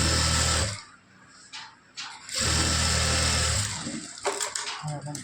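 An electric sewing machine stitching a lining blouse runs in two loud, close bursts of rapid whirring, broken by a quiet pause and followed by softer handling sounds.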